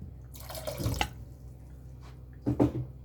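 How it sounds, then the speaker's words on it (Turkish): Water trickles and drips into a batter mixture for a quick homemade mantı-style dish, in short soft pours with a quiet gap between them, close and faint with no talk. "iki yemek kaşığı kadar şöyle su ilave ettim"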